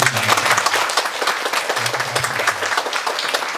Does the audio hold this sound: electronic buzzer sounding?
no